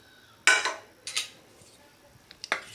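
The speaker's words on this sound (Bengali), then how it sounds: "10 মিনিট পর ঢাকনা খুলছি।" A metal pot lid lifted after ten minutes of resting soaked semolina for a leftover-rice dhokla batter: a sharp clatter, a lighter knock a moment later, then small clinks, near and alone.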